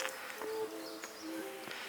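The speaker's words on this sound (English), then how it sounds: "at all the subway stations in the main cities, they pipe in bird sounds" Recorded birdsong plays over the speakers in a Japanese subway station, with thin repeated chirps and whistles above a constant wash of station noise.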